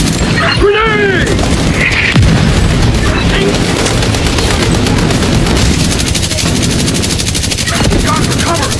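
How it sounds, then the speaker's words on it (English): A grenade goes off amid a firefight in The Division 2: loud, continuous gunfire and booming blasts fill the scene, with shouted voices over the din. "Grenade!"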